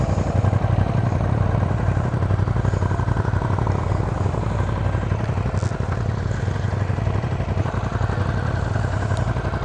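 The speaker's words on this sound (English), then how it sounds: "I'm not used to having a stock bike still have that grumbly sound to it." A stock 821 motorcycle engine grumbles steadily at idle, loud and close, with a continuous low throbbing rumble and light mechanical clatter throughout.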